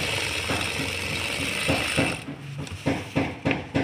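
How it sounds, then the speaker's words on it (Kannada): A sewing machine stitches a fall onto a saree with a steady mechanical whir and clatter, then breaks into short repeated bursts of stitching near the close. "ಒಂದು ಸ್ವಲ್ಪ ದೂರ ಹೊಲಿದು ತೋರಿಸ್ತೀನಿ ರೀ."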